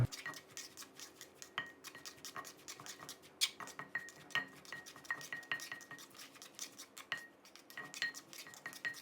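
Mango som tam, Thai green mango salad, being tossed and mixed in a bowl, giving a steady run of light clinks and scrapes of utensils against dishware, close and fairly quiet, with no talking.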